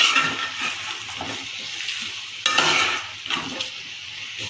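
Vegetables for a prawn kuzhambu are sautéed in a pan, giving a soft steady sizzle broken by scraping and clinking as a spoon stirs and knocks against the metal.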